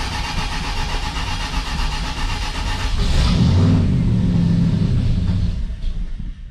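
A 1979 Dodge Lil Red Express engine cranks and catches after six months of winter storage, rising into a loud, close rumbling idle that holds steady with no talk over it.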